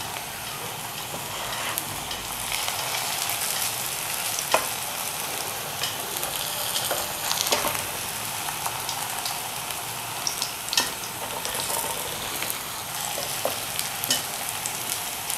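Spinach kababs frying in a small amount of oil, giving a steady, dense sizzle throughout, with a handful of faint taps and scrapes as they are turned over, and no talking.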